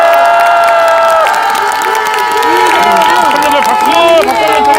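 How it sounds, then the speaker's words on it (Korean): A crowd at a political campaign rally cheers and applauds loudly without a break. Shouting voices and clapping are dense and close. "이재명 대표님께 큰 박수 한번 보내주십시오."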